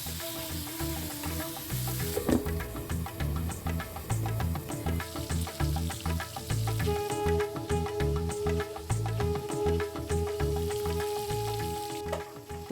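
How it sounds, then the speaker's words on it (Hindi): Fish fries in a pan with a steady moderate sizzle, accompanied by a busy pattern of clinks, knocks and low thumps from kitchen activity nearby; no speech is heard. "तो इधर फ़िश फ्राई हो रहे हैं"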